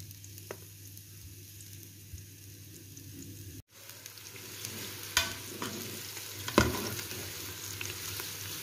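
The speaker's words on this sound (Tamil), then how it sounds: "வெங்காயம் சேர்த்து வதக்கிக்கலாம்." Onions sautéing in ghee on the stir-fry setting of a Noxxa pressure cooker, a steady soft sizzle with occasional stirring scrapes, close and moderately quiet, no talking.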